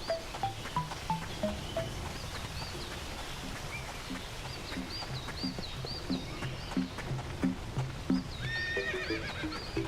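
Horse whinnies and neighs with a steady clip-clop of hooves in the video game Lost Odyssey, the calls repeating over the trotting rhythm amid faint birdlike chirps and game ambience, no talk.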